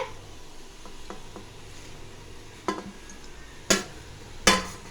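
A spoon scrapes and clinks against a metal pot as coriander powder, chili powder and curry masala are stirred into mutton biryani, with a low sizzle underneath and three sharper knocks toward the end.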